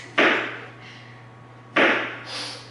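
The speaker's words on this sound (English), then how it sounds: "My mom, for starters, is over here chopping things" Two sharp, separate chopping thuds from a mother cutting food in a home kitchen, each with a short ringing decay, over a steady low hum with no talking.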